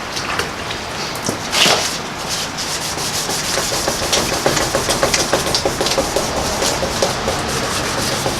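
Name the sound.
hand sanding a headlight lens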